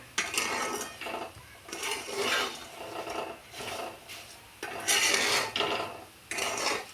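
Bhel ingredients tossed in oil in a pan, a repeated scraping and rustling stir in bursts of roughly a second, close and moderately loud with no voices.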